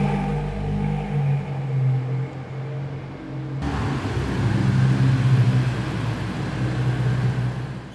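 A car on a test drive gives off steady engine rumble and road noise, which grows broader and louder partway through, with no voices.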